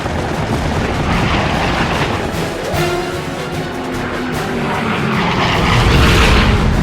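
A dense, roaring aircraft engine drone with rapid crackling bursts of gunfire mixed in, loud and continuous throughout.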